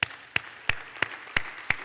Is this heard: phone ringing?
no